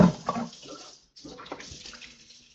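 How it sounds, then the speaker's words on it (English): Water pours into a cooking pot in a home kitchen, a splashing, gurgling stream that stops briefly, then resumes with lighter trickling. "Let me put some water in there."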